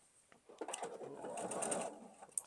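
A sewing machine runs steadily as it stitches fabric for a quilt block, a close, moderately loud whirring burst lasting about two seconds with no talking.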